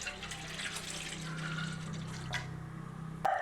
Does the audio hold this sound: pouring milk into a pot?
yes